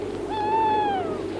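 An owl hoots once, a single drawn-out clear call rising and then gently falling, heard alone over a steady low background hum in an old radio drama.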